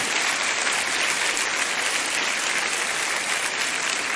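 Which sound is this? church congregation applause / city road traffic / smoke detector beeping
church congregation applause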